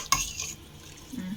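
A short, faint scrape of a spoon stirring vegetarian soup ingredients in a pot, a single light clink at the start followed by soft swirling.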